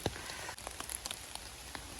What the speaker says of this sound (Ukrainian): Ось такий туманний, туманний, дощовий, загадковий ліс.